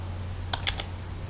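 Three quick, crisp clicks of a computer keyboard as someone types in MS Word, close and clear over a steady low electrical hum, with no talking.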